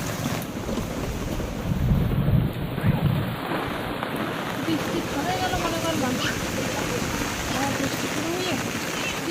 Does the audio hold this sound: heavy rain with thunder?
yes